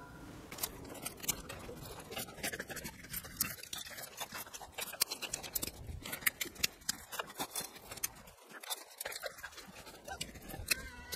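Pruning shears cutting grapevine canes on a vertical trellis, repeated sharp snips and woody clicks at an irregular pace among rustling of branches, fairly close.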